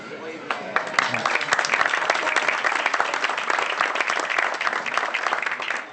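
Steady audience applause fills the whole stretch, many hands clapping at once at an even, sustained level.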